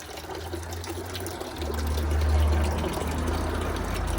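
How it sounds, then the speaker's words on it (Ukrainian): Cold spring water runs into a container at a roadside spring, a steady low gurgling flow that grows fuller and louder partway through as the vessel fills, with no talking. "Набираємо водичку, дуже холодна, дуже смачна."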